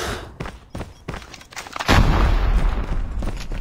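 Gunfire and bombardment in the mobile shooter game Call of Duty Mobile: scattered sharp shots give way to a heavy rumbling explosion that sustains loudly to the end, without talk.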